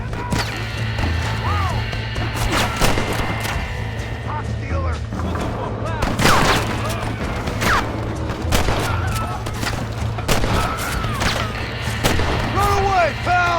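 Repeated gunshots from a Red Dead Redemption shootout in Armadillo, irregular cracks scattered among game noise and a steady hum, with talking throughout.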